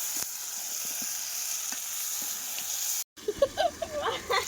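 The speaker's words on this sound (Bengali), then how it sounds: "এবার আলু দিয়ে একসাথে কষাই করবো" Fried potatoes sautéed together with chicken curry in a pan over a coal fire: a steady sizzle and hiss for about three seconds, then a brief cut, followed by stirring and scraping with faint voices.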